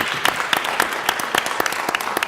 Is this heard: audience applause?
yes